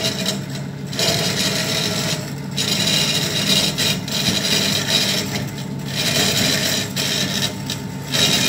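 Steady rasping, grinding drone of a GZK 4028 automatic band saw cutting through stock with an old blade, continuous and fairly loud, with slight surges in intensity and no voices.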